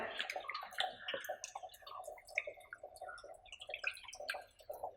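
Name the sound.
fresh water poured while washing shark meat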